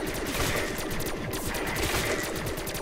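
Rapid, continuous burst of BMR gunfire in a zombies video game on the Der Eisendrache map, loud and close with tightly spaced shots.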